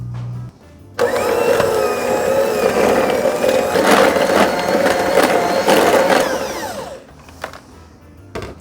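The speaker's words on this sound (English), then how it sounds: "giving it another mix with the mixer" Electric mixer beating lemony cookie dough with lemon rind and salt, a loud steady whirring drone for several seconds that cuts off, followed by faint clinks.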